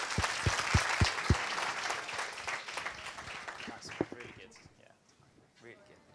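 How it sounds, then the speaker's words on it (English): Audience applause breaks out after a conference talk at an insight event in London, dense clapping filling the room at close range and tapering off toward the end, with voices mixed in. "massive round of applause for these guys"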